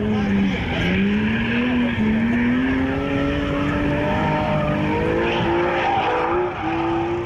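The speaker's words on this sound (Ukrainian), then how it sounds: "Це дріфтовий автомобіль, підготовлений для участі в чемпіонаті України по дріфту в серії Pro AM" A drift car built for the Ukrainian drift championship Pro AM series revs hard with wavering engine pitch while its tires squeal continuously, loud and close, with no pause throughout.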